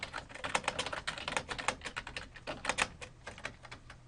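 Rapid, steady typing on a computer keyboard while writing a chat message, a continuous run of close, crisp key clicks with small bursts and pauses, no voices.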